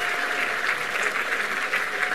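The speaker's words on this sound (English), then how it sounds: "Ladies and gentlemen, a big round of applause for our contestants here." An audience at a 2019 convention applauds contestants, a continuous, even wash of clapping from many hands that sounds somewhat distant and moderately loud.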